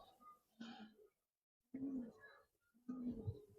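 A silver Giribaz pigeon coos softly in close, low throaty phrases separated by short silences, three bursts in all, with a faint voice nearby.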